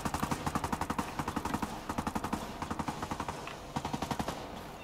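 Enemy gunfire in Ghost Recon Breakpoint comes as fast, evenly spaced automatic bursts, loud and sharp, with several long strings of rapid shots and brief pauses between them.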